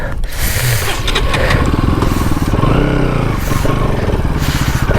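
A Yamaha R15 motorcycle rumbles steadily at close range throughout, its engine note continuous and loud with slight shifts in pitch as the bike is moved forward.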